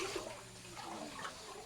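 Water flows and rushes steadily through a concrete biosand filter during a backwash, a quiet and continuous wash of sound with no talking.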